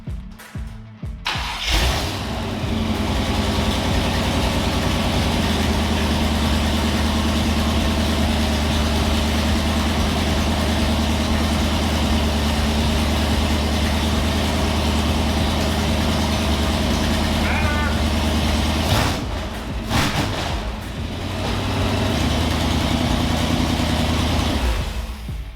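A Model A gasser rat rod with a supercharged blower engine cranks over and settles into a loud, steady idle with a deep rumble, holding close and continuous with a brief dip partway through.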